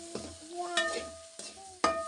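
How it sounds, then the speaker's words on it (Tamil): Chilli, coriander and turmeric powders sauté with cumin in a pan for a Chettinad country-chicken curry. Soft sizzling runs under several scraping stirs, close and fairly quiet, with no talking. "இப்போ மிளகாத்தூள், மல்லித்தூள், மஞ்சத்தூள் போட்டு வணக்கிறேன் பாருங்களேன்."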